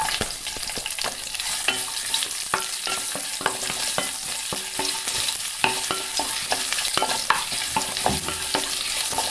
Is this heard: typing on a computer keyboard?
no